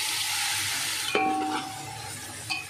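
Garlic ginger paste sizzles in hot oil for a chicken tikka biryani while being stirred, a steady frying hiss broken by a couple of sharp clinks of a spoon against the pan.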